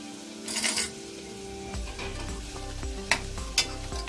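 Potatoes added to a hot pan for a Navratri fasting thali, sizzling and frying while a spoon stirs and scrapes the metal, with a couple of sharp clinks.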